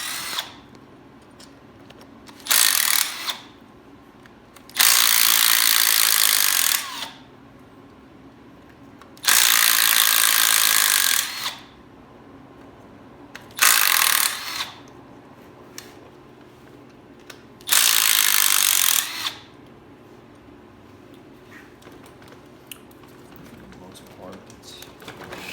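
A small impact wrench removes crankcase bolts on a Kawasaki Ultra 150, rattling and hammering in five separate bursts of one to two seconds each, with quiet gaps between them.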